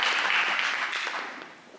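An audience at a church Christmas play bursts into applause for the pastor, a bright burst of clapping that gradually fades toward the end.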